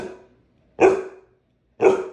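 A dog barks at a picture of herself twice, about a second apart, each a single sharp, fairly close woof with a short tonal ring, separated by silence.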